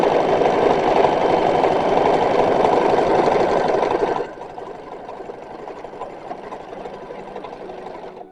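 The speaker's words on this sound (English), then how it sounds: "so we're going to sew them again, this time on the other side" A sewing machine runs steadily, stitching a seam on a 1920s-style chemise, with a loud, even mechanical whir that drops to a quieter, lighter hum partway through.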